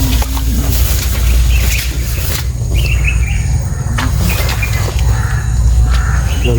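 A crow caws a few times over steady low rumbling background noise, with scattered chirps from other birds.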